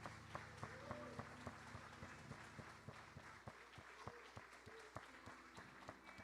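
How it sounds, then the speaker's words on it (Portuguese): A church congregation applauds during a worship service, steady broadband clapping running under music, with sharp rhythmic beats cutting through the wash of hands. "aplauda ao Senhor Jesus."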